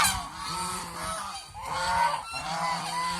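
A flock of geese on a goose farm honks continuously, loud and close, their overlapping nasal calls rising and falling in waves with no talking.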